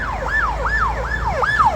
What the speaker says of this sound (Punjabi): ਜਦੋਂ ਐਂਬੂਲੈਂਸ ਆਉਂਦੀ ਆ